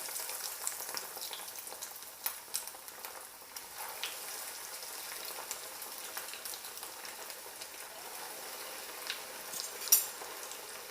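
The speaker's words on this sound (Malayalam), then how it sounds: "ഇനി നമുക്ക് ഇത് എണ്ണയിൽ പൊരിച്ചെടുക്കാം." Rolled sweet dosa deep frying in hot oil, a steady close crackling sizzle with scattered pops and bubbling spits running throughout, no voices.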